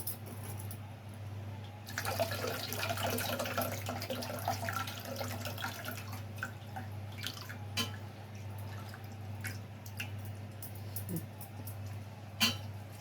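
Tamarind squeezed and dissolved by hand in water for a brinjal and pumpkin kara kuzhambu, giving soft, continuous close-up sloshing and dripping with scattered small splashes over a steady low hum, no talking.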